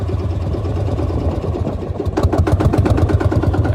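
Vintage 1955 Lanz Bulldog D2402 tractor engine running loud and close, a steady low throbbing chug that sharpens into rapid, distinct pulses as it gets under way, with no talk over it.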